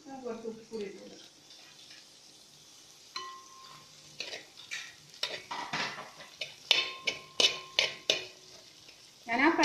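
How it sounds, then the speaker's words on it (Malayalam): Sliced onions sauté in oil in a frying pan with salt, a spatula scraping and clinking in an irregular rhythm over a soft sizzle, while a voice talks at intervals. "അതിനകത്തോട്ട് തന്നെയാണ് സവാള വഴറ്റി എടുക്കുന്നത്"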